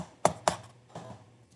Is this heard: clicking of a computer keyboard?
yes